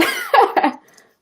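Two or three quick, harsh coughs, close and fairly loud, trailing off into silence.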